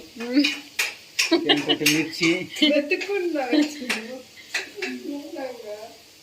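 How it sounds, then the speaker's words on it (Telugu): Metal spoon clanking and scraping against a cooking pot while chicken curry is stirred, a run of sharp irregular clinks mixed with someone talking over them. "ఆ పక్క మా ఆయన చికెన్ పులుసుకి రెడీ చేస్తా ఉన్నాడు టుక్కు టుక్కు టుక్కు టుక్కు అంట కలుపుతా"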